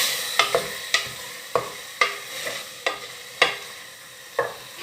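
Tomatoes frying with meat in a pan, stirred with a series of sharp scraping strokes over a steady sizzle, close and without voices.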